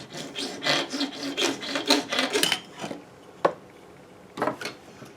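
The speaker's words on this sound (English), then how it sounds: "All right, gonna try filing it flat?" Rasping strokes of a file worked across the wooden body of a Pinewood Derby car on a bench, a quick run of rhythmic back-and-forth scrapes, a pause, then a couple more short passes, close and fairly loud.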